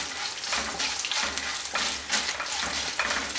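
Urad dal fries in oil in a pan over a low flame while tomato rice is cooked, a close, steady sizzle with rhythmic stirring scrapes and no talk.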